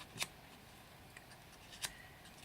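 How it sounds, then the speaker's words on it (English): A pair of quick, crisp scissor strokes scrape along the edges of cut-out paper flower petals to curl them, faint and close, separated by a quiet pause, with no talking. "Just using the scissors to curl the"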